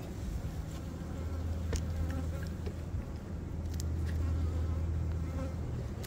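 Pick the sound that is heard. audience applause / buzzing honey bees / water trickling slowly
buzzing honey bees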